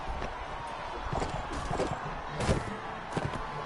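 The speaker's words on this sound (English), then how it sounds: "Would you slow down, horse?" Horse hooves galloping in the video game Mount and Blade Warband, a busy patter of rapid thuds mixed with combat noise and a voice talking over it.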